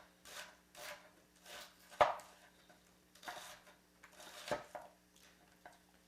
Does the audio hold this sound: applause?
no